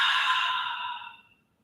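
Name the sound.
exhaling out through the mouth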